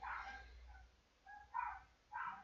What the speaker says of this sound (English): they're barking at something